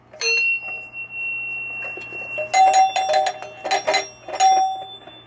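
Chime box from a 1976 Williams Grand Prix pinball machine, rung on the bench outside the cabinet: one long sustained bell tone, then a quick cluster of bright metallic chime strikes ringing out, clear and close with no talking.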